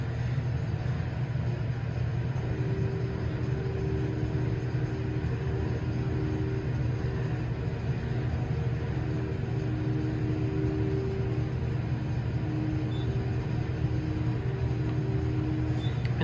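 A Schindler/MEI hydraulic elevator at an airport tram station hums steadily as its motor runs, a constant low drone with a faint tonal whine that lasts the whole time. No one speaks.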